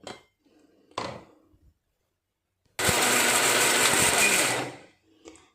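A kitchen mixer grinder whirs loudly for about two seconds while grinding coconut chutney, preceded by a few clicks and knocks of the jar lid and followed by a soft clunk.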